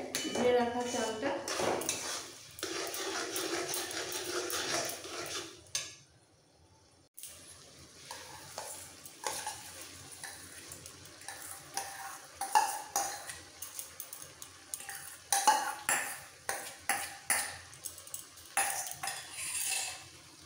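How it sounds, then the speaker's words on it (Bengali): A spoon scrapes and clatters in a pot as boiled lentils and washed rice are mixed into spices for khichuri, in irregular bursts with a brief lull midway and faint background voice. "ডাল সেদ্ধটা মশলার সাথে ভালো করে মিক্স করে দিতে হবে ধুয়ে রাখা চালটা।"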